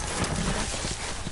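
A horse's hooves clip-clop with a short whinny in the Telltale Game of Thrones video game, a brief, fairly loud burst of galloping with no talk over it.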